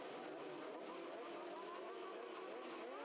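Faint, distant 600cc racing motorcycle engines at the Southern 100 road race drone and rev steadily together on the start line, a continuous buzzing whine with no talk.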